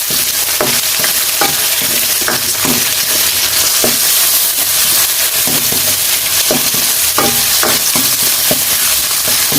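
Tomatoes drop into a loud sizzling pan while sinigang corned beef cooks, with a constant frying hiss broken by repeated stirring scrapes and knocks, close up and with no talking.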